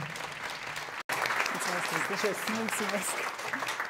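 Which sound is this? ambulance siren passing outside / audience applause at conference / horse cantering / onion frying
audience applause at conference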